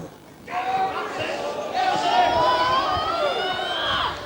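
Rugby league match crowd, Prescott versus Barrow, a broad sustained roar and cheer rising and swelling throughout, with a commentator talking over it.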